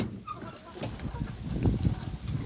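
Chickens clucking close by in soft, irregular bursts over a low rustling background, with no talking.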